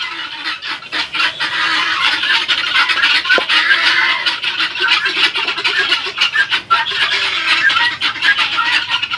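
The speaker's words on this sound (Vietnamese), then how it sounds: "gà lôi." Pheasants clucking in a pen at a villa garden in Go Cong, a dense, continuous chorus of close, loud calls and rustling with no clear break.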